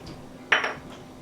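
A short clink and clatter of a utensil against a bowl while black pepper, lemon juice and honey are being mixed, one brief burst standing out from quiet kitchen background.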